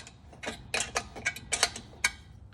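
Small bolts being driven in with the included hand tool to fasten the wheels onto an outdoor propane patio heater, heard as a run of sharp, close metallic ticks and ratcheting clicks in an irregular rhythm with no talking.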